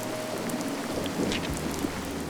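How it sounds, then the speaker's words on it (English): Heavy rain falls as a steady, dense hiss over a low, constant hum, with no voices. "heavy rain"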